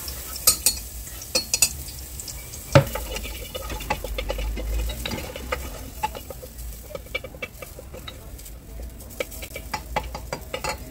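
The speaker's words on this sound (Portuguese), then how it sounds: "E agora eu coloco um dente de alho" Garlic clove sautéing in a little olive oil in a pressure cooker, a steady crackling sizzle with scattered sharp pops and stirring clicks, close and busy throughout.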